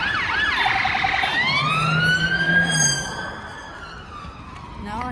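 Police siren passing on a street, a wailing rise-and-fall tone that sweeps loud and near before fading into the distance, with a brief voice underneath.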